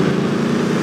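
A Mustang engine in Car For Sale Simulator 2023 drones steadily at a low pitch for under a second, close and fairly loud, with no speech.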